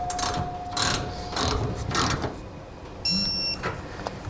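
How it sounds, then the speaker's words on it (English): A hand ratchet with a 19 mm socket tightens bolts joining the center section of a 5th wheel trailer hitch underbed kit to its rear cross member. Several quick clicking bursts sound close and fairly quiet. "Next, we're gonna tighten our center section to our rear cross member. We'll be using a 19 millimeter socket."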